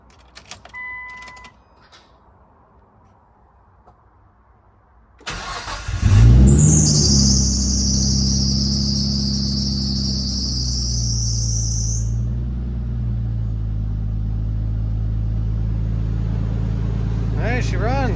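A Nissan R34 Skyline engine, fresh from a manual swap, cranks briefly and catches, then settles into a loud, steady idle with a throaty exhaust and a high whine over it for several seconds, close to the car.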